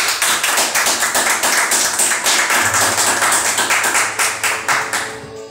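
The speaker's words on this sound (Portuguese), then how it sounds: "Pode se assentar, dando palmas para Jesus." A church congregation clapping for Jesus, steady rhythmic clapping from many hands filling the room, loud and even throughout, fading near the end.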